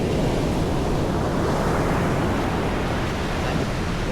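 Ocean surf surges continuously, a loud, dense wash of roaring waves with wind buffeting the microphone, no voices.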